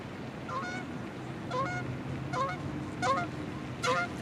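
A bird passing during outdoor filming gives a series of loud, nasal honks, about five calls spaced roughly evenly and growing slightly stronger toward the end, over a low steady background hum.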